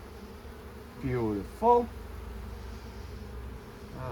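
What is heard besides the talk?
honey bees on a beehive frame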